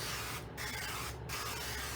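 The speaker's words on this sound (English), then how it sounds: "take a little bit of vegetable spray and spray the bottom" Vegetable cooking spray hissing from a can onto the bottom of a baking dish in two short bursts, each a sharp airy spray of about half a second with a brief gap between, close and clear with no talking.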